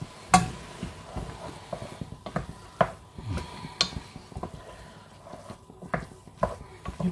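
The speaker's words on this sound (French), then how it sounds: "Et on va mélanger." A frittata mixture with green and black olives is stirred in a pan, scattered clicks and scrapes of the utensil repeating irregularly with a faint sizzle beneath, close and moderately loud, no talking.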